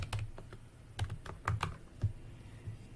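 Someone types on a computer keyboard while entering text for a T-shirt design. Close, crisp key clicks come in an uneven burst of about a dozen strokes.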